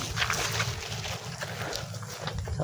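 A motorboat travels along a wide canal, its engine a steady low drone with rushing water and wind noise. The sound holds constant and moderately loud, with no talking.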